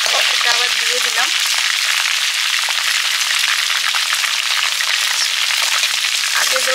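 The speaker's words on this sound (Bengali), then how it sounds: "তেলে জিরে দিয়ে দিচ্ছি, গোটা জিরে।" Whole cumin seeds and a dried red chilli, reused from frying potatoes and meat, sizzle loudly and steadily in hot oil, a close continuous crackling hiss, with faint speech at the start and end.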